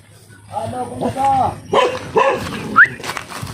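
A dog gives several short barks and yips close by, mixed with a higher whimper, while a person talks over them.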